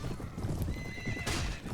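A horse whinnies sharply amid a rapid, busy clatter of hooves in the Mount & Blade: Warband video game, the neigh rising partway through over the constant galloping clip-clop.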